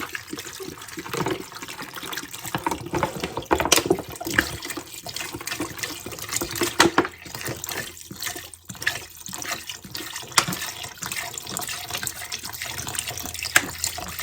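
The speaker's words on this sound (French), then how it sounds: "On va remplir avec l'eau" Tap water gushes steadily into a saucepan, a continuous splashing rush that fills the whole stretch without talk.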